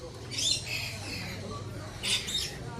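Two bursts of harsh, high African parrot squawks, one early and one later, over a low steady background rumble.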